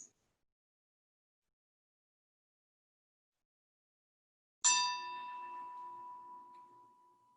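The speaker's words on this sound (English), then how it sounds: "When you hear the sound of the chime, just allow a few moments before you open your eyes." A single meditation chime strikes after long silence, ringing clearly with a bright metallic attack and a sustained tone that slowly fades.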